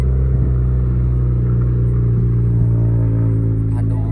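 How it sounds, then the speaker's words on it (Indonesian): Car exhaust giving a loud, steady low rumble up close, droning on without pause for several seconds. "Aduh, suara knalpot nih."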